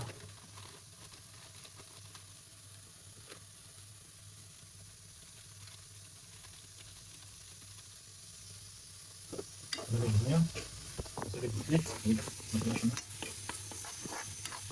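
Turmeric and spices hit a hot pan and sizzle, a quiet hiss for most of the time that turns into a louder crackle with stirring scrapes near the end, close by, with no talking over it.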